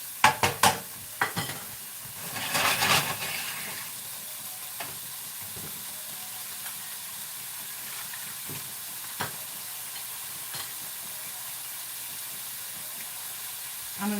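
Shrimp with Cajun seasoning and butter sizzling in a pan, a steady close hiss with a few sharp clatters and a louder stirring burst near the start, then quieter continuous frying without talk.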